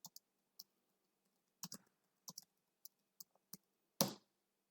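A computer keyboard clicks in a quiet room: sparse, irregular keystrokes close by, some in quick pairs, ending with a louder, longer tap.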